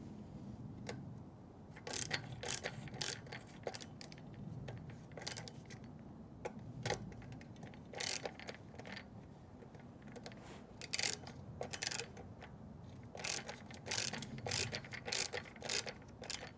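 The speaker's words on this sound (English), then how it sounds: "I'm actually gonna turn this up on its back side and tighten these bolts down." Ratchet tightening bolts on a Toyota 2JZ engine, rapid close clicking in repeated bursts with brief gaps, crisp and moderately loud with no talking.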